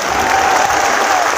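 A large crowd at a Gurjar community rally in Gwalior claps loudly in a dense burst of applause, with a faint voice lingering underneath.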